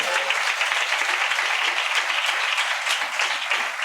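A church congregation at a fasting prayer meeting claps steadily in praise, a dense, loud wash of many hands that holds evenly throughout without pause.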